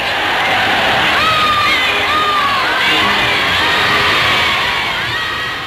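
Large crowd at a Nazi-era mass parade roaring and cheering continuously, dense shouting voices with rising whoops, loud and steady throughout.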